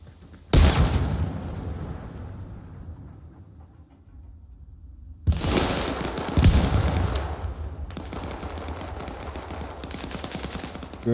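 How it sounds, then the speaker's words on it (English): In a 20-versus-20 competitive Arma Reforger match, a loud grenade blast hits early and its rumble fades. A second heavy explosion follows, then sustained rapid gunfire crackles on and on. "Now a grenade had been unpinned."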